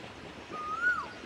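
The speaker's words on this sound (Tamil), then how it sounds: "இயற்கை ரசிகங்கள் குயில் ஓசை கேளுங்கள்." An Asian koel gives a single rising, whistled call from a moderate distance over faint outdoor background noise, brief and clear, with no voices.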